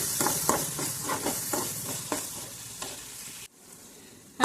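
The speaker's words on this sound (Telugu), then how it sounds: "ఈ ఆనియన్స్ అనేవి గోల్డెన్ బ్రౌనిష్ కలర్ వచ్చే వరకు వేయించుకోవాలి." Onions frying toward golden brown in a pan are stirred in rhythmic strokes over a constant close sizzle, before the sound cuts off abruptly partway through.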